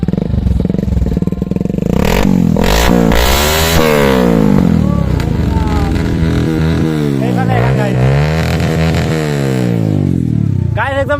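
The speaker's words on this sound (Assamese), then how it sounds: "এতিয়া আপোনাক চাউণ্ডটো দেখাই আছোঁ কেনেকুৱা হয়। আংকেল বাইকখন ষ্টাৰ্ট দি।" A second-hand motorcycle fitted with a modified exhaust starts and revs hard. It gives a loud, close, continuous engine roar with rising and falling revs throughout.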